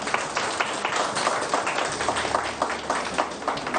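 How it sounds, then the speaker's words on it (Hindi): Studio audience on a Pakistani morning show bursts into sustained, dense applause, many hands clapping together loudly and continuously throughout. "एक बार खुल के जरा तालियां बजाओ"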